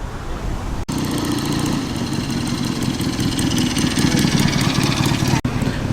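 A red TVR Chimera sports car idles at a classic car meet, its steady mid-pitched engine rumble running continuously and fairly close, with people talking over it.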